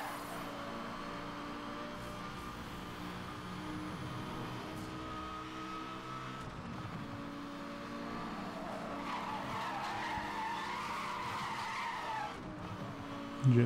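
Race car in the Need For Speed street racing game drifting through corners, with a continuous loud engine drone and long sustained tire skids and squeals throughout, no talk.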